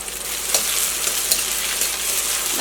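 Chopped onions fry in a pan for a papaya curry, giving a steady soft sizzle with faint stirring scrapes and no talking.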